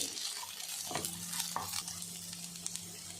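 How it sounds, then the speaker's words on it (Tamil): Ginger garlic paste frying in a pan for Chettinad chicken curry, a steady close sizzle with brief stirring scrapes partway through, no talking. "இஞ்சி பூண்டு பேஸ்ட்டை போட்டு நல்லா வறுத்துடணும்"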